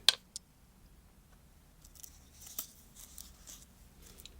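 Scissors snip through gasket material during a repair of a leak under a kitchen sink, with a few quick, quiet cuts spaced out over several seconds and light handling rustles between them.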